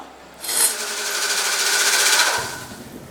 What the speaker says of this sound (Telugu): అలాగే ఇప్పుడు మిక్సీ పట్టుకుందాం